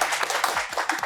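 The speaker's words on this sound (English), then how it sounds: "Everybody clap." A television talk-show audience claps briefly, with a quick run of uneven, overlapping claps lasting about a second.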